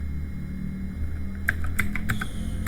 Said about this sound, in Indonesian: Lalu kita ketik lagi